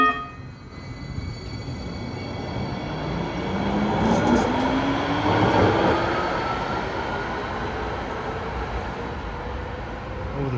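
A New Jersey Transit Hudson Bergen Light Rail train runs toward the 8th Street terminal in Bayonne with a loud, steady rolling rumble, and a rising metallic whine swells through the middle before settling back.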